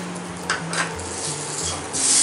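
A spoon scrapes and stirs wheat flour cooking in ghee in a metal pan for halwa, soft sizzling under a few clinks and gritty rubbing strokes, close and without talking.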